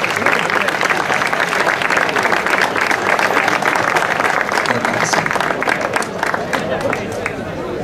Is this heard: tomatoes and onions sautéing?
no